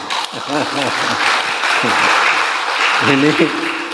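Audience applause at an event for SMK Negeri 5 Malang vocational school in Indonesia, a steady dense wash of clapping lasting throughout, with voices speaking over it at moments.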